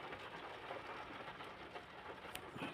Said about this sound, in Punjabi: ਚੰਗੀ ਬਾਰਿਸ਼ ਹੋਣ ਲੱਗ ਪਈ ਆ